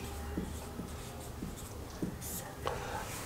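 A pen writing a finance formula by hand on paper, a few short scratchy strokes spaced out over a quiet background, close and faint.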